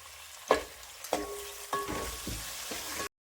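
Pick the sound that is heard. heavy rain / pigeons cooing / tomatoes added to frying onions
tomatoes added to frying onions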